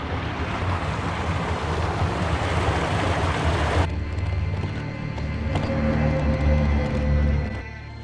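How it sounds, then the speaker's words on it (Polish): A small waterfall and stream rush steadily nearby, a continuous dense splashing hiss with some wind buffeting the microphone. "Tu jest jakiś mały wodospadzik."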